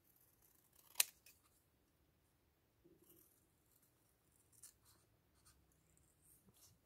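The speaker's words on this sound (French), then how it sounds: "C'est pas évident à découper parce que c'est du cardstock" Scissors cutting cardstock during scrapbooking: one sharp snip, then faint, scattered cutting clicks and paper rustles, close and quiet, with no talk.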